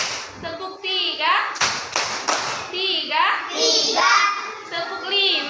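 Young third-grade pupils in an elementary school classroom clap sharply in time with a counted chant, a few crisp group claps set between bright children's voices chanting aloud.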